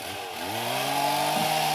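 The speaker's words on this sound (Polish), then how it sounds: "Usuwanie piły łańcuchowej." A chainsaw in the online horse-riding game Star Stable Online revs up, its engine whine climbing steadily in pitch, then holds at a loud, continuous buzzing drone.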